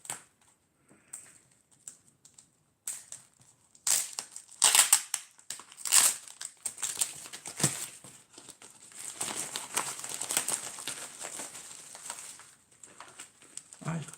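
Tape is peeled and a trading card package is torn open, giving bursts of crinkling, ripping and cardboard rustling that come and go in irregular clusters, close up with quiet gaps between them.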